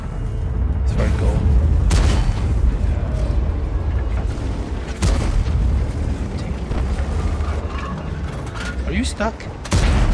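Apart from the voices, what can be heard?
artillery fire in World of Tanks video game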